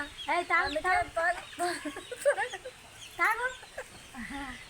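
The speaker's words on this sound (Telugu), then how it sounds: "కోడిపిల్ల బయటకు వచ్చింది, నేను తాగుతుంటే చూస్తుంది కదా." A young chick cheeps and clucks in a series of short, high, close chirps while it is given water to drink, with people's voices mixed in around it.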